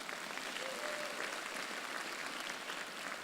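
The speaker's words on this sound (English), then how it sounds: "a round of applause to you" An audience at a graduate studies graduation ceremony applauds with steady, dense clapping that fills a large hall at an even level throughout.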